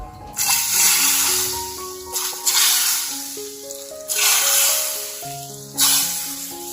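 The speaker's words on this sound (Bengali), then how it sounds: "এরপর এই তরকাটা আমি এর মধ্যে দিয়ে দেবো।" Hot tempering poured into sambar, loud bursts of hissing sizzle that flare up several times and slowly fade, heard close over a faint sustained musical tone.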